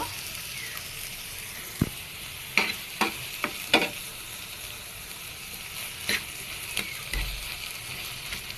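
Green chilies frying as they are stirred into papaya mash, a steady soft sizzle with a handful of crisp clattering stir knocks spread through it, close by with no talking.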